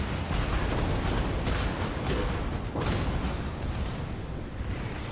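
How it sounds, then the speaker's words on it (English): The French battleship Richelieu fires in World of Warships: a fairly quiet, rumbling boom of heavy naval guns, with a distinct salvo midway through over a constant low roar. "Look like the Richelieu is shooting you"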